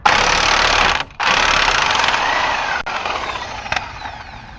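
An impact wrench rattles loud and close in sustained bursts while tightening a tie-rod end nut on a 1999 Jeep Grand Cherokee WJ, with a brief pause between hammering runs.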